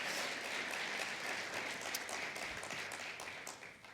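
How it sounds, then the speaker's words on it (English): Audience applause fills a room at an African digital innovation competition event with steady, dense clapping. It stays at a fairly constant level, then tapers slightly near the end. "Yes, let's clap it up."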